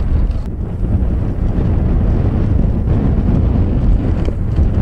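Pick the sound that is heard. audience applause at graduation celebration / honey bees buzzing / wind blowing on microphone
wind blowing on microphone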